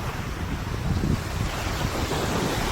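Sea waves surge and wash onto the beach at Alappuzha, a continuous close roar of surf mixed with strong wind buffeting the microphone.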